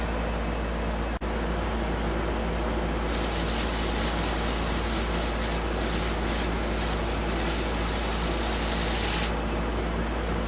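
A continuous hissing, spray-like rush runs for about six seconds over a steady low machine hum while sanding a Spanish cedar cow carving smooth, then cuts off abruptly.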